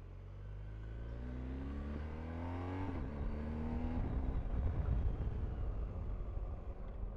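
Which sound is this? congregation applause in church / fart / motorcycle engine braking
motorcycle engine braking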